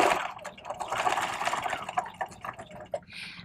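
An industrial buttonhole sewing machine stitches a buttonhole on the center front line of a vest, producing a rapid, steady clatter of needle strokes, close and moderately loud, that tapers into a few sharp mechanical clicks near the end.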